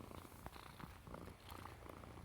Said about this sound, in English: But you're purring for some reason.